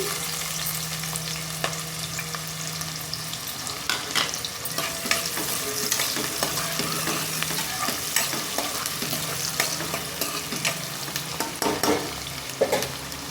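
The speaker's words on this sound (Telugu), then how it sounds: "ఆయిల్ హీట్ అయ్యాక మనం కట్ చేసి పెట్టుకున్న ఉల్లిపాయ ముక్కలు వేసుకోవాలి." Chopped onions fry in hot oil in a pan for a spicy mutton curry, a dense, steady close-up sizzle with scattered stirring scrapes and small pops throughout, and no speech.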